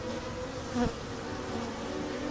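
Bees hum in a steady close drone while pollinating flowering plants, with one louder buzz swelling briefly as an insect passes near, with no voices.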